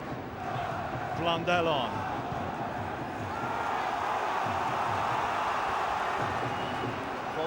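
Darlington supporters' crowd noise at a football match against Leeds, a steady broad roar swelling slightly in volume beneath a commentator's voice, with a brief whistle-like tone near the start.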